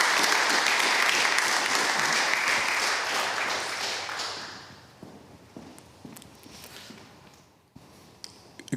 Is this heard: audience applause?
yes